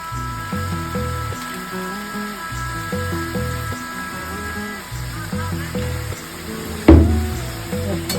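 Mutton being sautéed in a pressure cooker for curry, a soft sizzle under tonal background music, with one sharp louder knock or stir late on.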